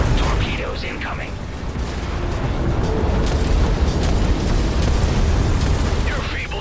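Incoming torpedoes explode in the space game Everspace 2, a loud sustained roaring rumble of blasts with deep booms and debris crackle filling the whole stretch.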